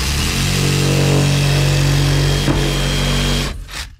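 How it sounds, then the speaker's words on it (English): A reciprocating saw cuts through a wooden stud during ICF wall strapping, a loud, close motor buzz with a rough, droning tone for about three seconds that stops abruptly near the end. "take my sawzall"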